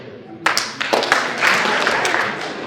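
Audience members clapping hands in response to a question at a morning gathering, a few sharp claps at first that quickly fill into a brief, fairly loud burst of group clapping.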